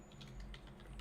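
Typing on a new computer keyboard with a custom layout, a quick run of light, quiet clicking keystrokes at close range.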